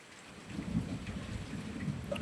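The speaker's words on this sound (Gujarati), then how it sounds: "અને હવે જો વરસાદ મેઘરાજા ગરજા ગાય ગાજે ઘૂમ ઘૂમ" Soft rain patters steadily while low thunder rumbles in the distance during a windy storm, fairly faint overall and with no one speaking.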